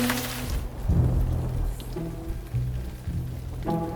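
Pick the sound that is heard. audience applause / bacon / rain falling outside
rain falling outside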